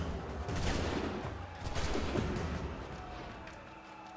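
Dense rattling bursts of gunfire in the video game Assassin's Creed III, like a distant volley, rolling continuously at moderate volume for a few seconds.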